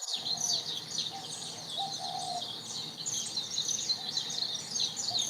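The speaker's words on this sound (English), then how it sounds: "Listen to those beautiful birdies." Several birds chirp and trill outdoors, a dense, continuous chorus of high calls, fairly near and steady, with no talking over it.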